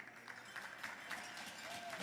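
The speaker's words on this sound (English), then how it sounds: "The crowd goes wild." Applause from spectators at a televised under-18 men's curling championship game, a steady moderate clapping wash with faint crowd murmur and a brief thin tone near the end.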